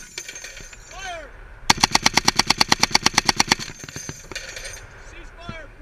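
.50 caliber machine gun fires a sustained burst of about twenty rapid, evenly spaced loud shots during a mounted live-fire military exercise, with shouted voices before and after the burst.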